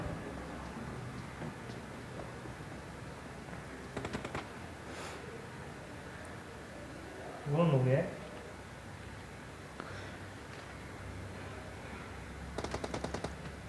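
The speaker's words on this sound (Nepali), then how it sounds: "M4 को स्प्रे हान्दै उपतिस र अरस टिपिपी लिँदै डिपीको स्प्रे हानेर" A short burst of automatic M4 rifle fire from a video game, with faint scattered shots before and after over a steady background of game noise.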